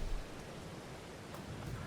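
Rain falls steadily in the farming video game Farming Simulator 22, a soft, even hiss of drops with a faint low rumble underneath, quiet and continuous with no voices.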